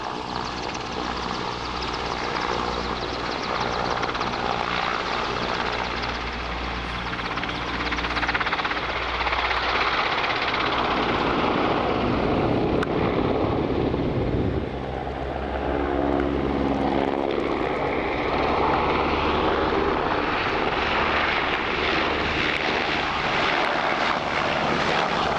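A Portuguese Air Force Agusta-Westland EH-101 Merlin helicopter of 751 Squadron performs at an airshow, its loud rotor and turbine roar swelling and shifting in pitch as it passes and maneuvers, continuous and strong.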